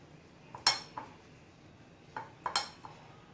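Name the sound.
mixing methi muthia dough ingredients in a bowl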